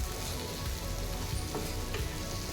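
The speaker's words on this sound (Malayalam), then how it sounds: "ഇനി മുളക് പൊടിയുടെ ആ കുത്തൽ മണമെല്ലാം ഒന്ന് മാറാനായിട്ട് നമ്മൾ നല്ലതുപോലെ" Chili powder fries in a chicken curry base of onion, tomato, green chili and garlic, giving a dense, steady sizzle with a faint scrape partway through.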